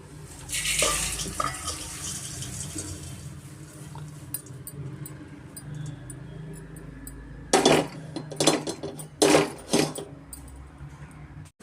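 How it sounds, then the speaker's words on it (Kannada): Roasted poha flakes are tipped and scraped from a pan into a wide plate with the stove off: a faint dry rustle first, then a cluster of loud, close clattering scrapes near the end, with no talking. "ಇವಾಗ ಇದನ್ನು ಸ್ಟವ್ ಆಫ್ ಮಾಡಿಬಿಟ್ಟು ನಾನು ಅಗಲವಾದ ಬಟ್ಲಿಗೆ ಸೇರಿಸ್ಕೊತೀನಿ"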